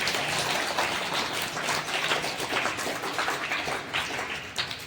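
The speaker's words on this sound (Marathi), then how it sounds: "त्या गावकऱ्यांसाठी एकदा जोरदार टाळ्या वाजवा" Crowd applause for villagers at a primary school prize-giving ceremony in a Pune district village, a dense, continuous patter of many hands clapping at moderate distance throughout.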